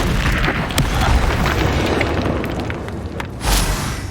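A deep booming blast from the Confringo fire spell in Hogwarts Legacy, loud and rumbling throughout, with a second sharper burst near the end.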